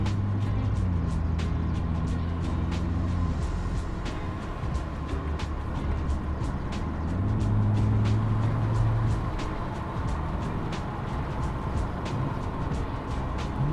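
BMW F98 X4M with an Akrapovic slip-on exhaust, downpipe and resonator delete, driving in comfort mode with valves closed: a fairly quiet, steady engine and road drone with gentle upshifts, heard from inside the cabin.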